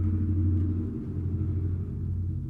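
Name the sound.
loud truck passing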